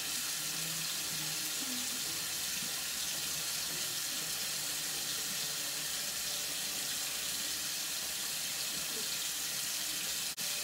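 A bathroom sink tap runs steadily while someone washes their face with bar soap, a constant soft hiss of flowing water at close range that carries on without a break.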